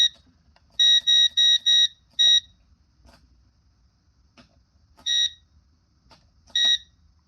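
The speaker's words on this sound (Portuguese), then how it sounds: "é preciso ouvir o bip do alto-falante" A shrill electronic buzzer on a W1209WK thermostat module beeps: a quick run of five short beeps, then two isolated beeps after pauses, loud against near silence.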